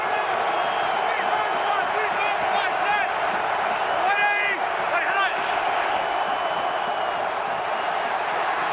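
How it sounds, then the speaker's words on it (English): A packed football stadium crowd at an NFC Divisional playoff game, Giants at Packers in Green Bay, roars loudly and continuously, with scattered whoops and shouts rising from the dense wall of cheering. "this crowd is louder than it's been all day."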